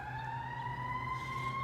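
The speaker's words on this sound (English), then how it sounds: "don't mind the sirens" A wailing emergency siren holds a steady rising tone throughout, loud and continuous, with a low engine rumble underneath.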